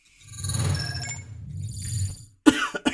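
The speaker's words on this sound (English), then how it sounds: "I'm so sorry for coughing" A person coughs a few times in short, rough bursts, close up, followed by a brief faint chime-like sound.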